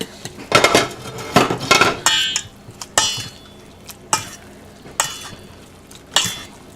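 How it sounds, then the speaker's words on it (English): Egg mixture and ramen noodles stirred together in a bowl for a ramen omelet, giving a series of distinct wet scraping and clinking strokes of utensil against dish, close and clear with no talking. "now you mix this in with this here, and you kind of stir that together"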